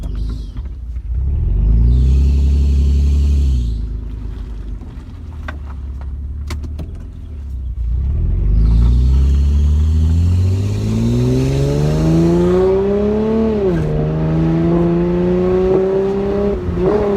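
A car engine revs hard several times, starting with two throaty bursts separated by a pause. A long rev then climbs steadily in pitch before dipping and rising again, loud and close with no talking.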